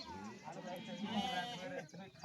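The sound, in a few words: sheep and lambs bleating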